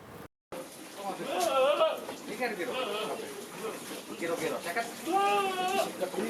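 Goats at a goat farm bleat in wavering, overlapping calls that come close and fairly loud, several cries in a row over a quiet background, with no talking.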